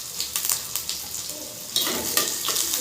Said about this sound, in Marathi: थोडासा कांदा टाकून फ्राय करून घेऊया।